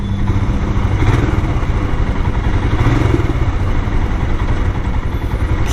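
A Scram 411 motorcycle engine idles nearby with a steady, throbbing, slightly clattery low thrum that stays even and fairly loud throughout.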